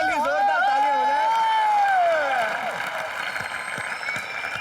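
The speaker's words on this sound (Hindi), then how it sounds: "इनके लिए जोरदार तालियां हो जाए" Studio audience applause on a comedy talk show set, a dense wash of clapping mixed with whoops and raised voices, loud at first and easing slightly after a couple of seconds, with no break throughout.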